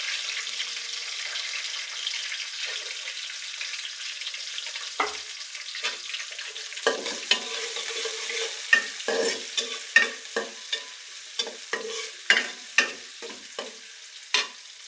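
Chopped onions sizzle in a pan under a soft, steady hiss, then a spoon stirs them, giving a run of sharp, rhythmic scrapes and clacks that grows busier toward the end, close by with no talking.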